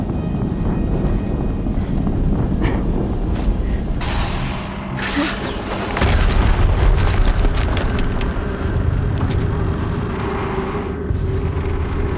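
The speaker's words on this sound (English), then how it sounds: "Another explosion." Explosion in the video game Horizon Zero Dawn, a loud deep boom erupting midway through a continuous roar of rumbling, wind-like noise and clanking machinery.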